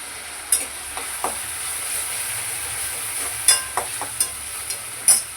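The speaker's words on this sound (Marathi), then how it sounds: "टॅमॅटो टाकूया. टॅमॅटो टाकून परतून घेऊया अगोदर त्याला." Onion and tomato sautéed in a pan, a soft steady sizzle broken by a handful of sharp scraping clicks from stirring, close and alone without talk.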